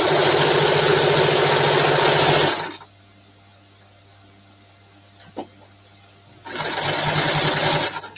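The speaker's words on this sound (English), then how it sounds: "Reminds them of their grandma sewing." A sewing machine stitches in a steady, loud mechanical whir at night. It runs for a few seconds, stops into near silence with a faint click, then starts up again.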